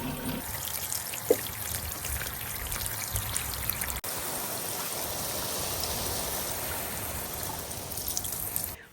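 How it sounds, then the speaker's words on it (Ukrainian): Water streams steadily onto garden flowers in a continuous close pouring hiss, with one brief knock near the start and a short break midway before the flow resumes evenly. "Я вирішила пополивати квіточки."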